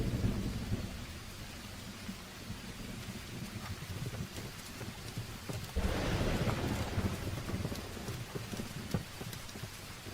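Steady rain pours with low rumbling thunder that swells sharply around the midpoint, loud and continuous throughout, with no voices, in an outdoor scene from a martial arts action film.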